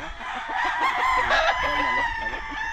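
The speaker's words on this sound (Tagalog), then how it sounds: "Sarap pakinggan yung mga boses ng mga manok" Several chickens and roosters crowing and clucking together, overlapping calls close by, one crow rising over the busy flock noise.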